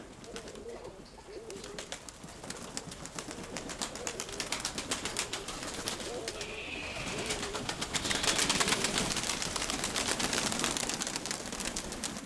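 Pigeons coo softly in an open outdoor setting, with a steady murmur of calls and some fluttering and scratchy rustle around them, moderately close and continuous, with no talking.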